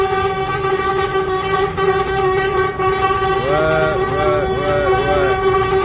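Sotra city buses arrive in a parade in Yamoussoukro, sounding a run of short, repeated horn toots over a steady, loud engine drone, with voices talking nearby.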